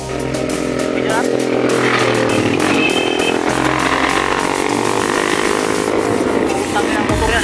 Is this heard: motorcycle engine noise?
yes